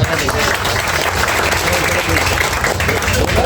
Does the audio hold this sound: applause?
yes